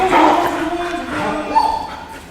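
A bull terrier barks in short bursts during an aggression-handling session at home, with a handler's voice talking over and between the barks.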